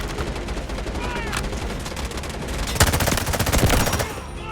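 Rapid automatic gunfire in the mobile shooter Delta Force Mobile during an attack-and-defend match, with a steady stream of close, loud shots, an even denser burst near the end, and faint game voice lines underneath.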